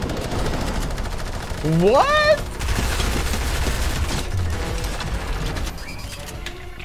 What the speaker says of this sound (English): Someone got an SMG, I heard.